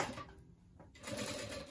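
A sewing machine stitches binding onto a thermal bottle holder, running in steady rapid bursts at close range, with a short pause in the middle before the stitching picks up again.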